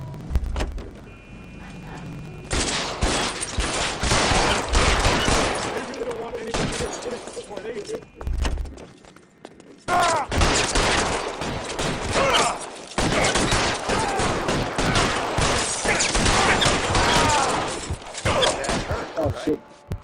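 Gunfire in the L.A. Noire video game, with dense, loud volleys of shots and thuds that keep going almost throughout, under and between excited voices talking.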